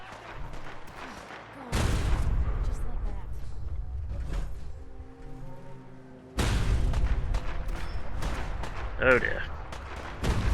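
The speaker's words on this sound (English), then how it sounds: "Okay, they're shooting at him now." Gunfire in Fallout 4 comes in two loud, dense bursts of booming shots several seconds apart, with a person talking over the action.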